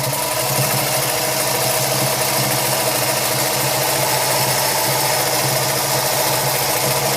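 A sewing machine stitches the bottom seam of a drawstring bag made from old pants, giving a steady, continuous mechanical whir with a fast rhythmic rattle that holds at an even, fairly close level throughout, with no talking.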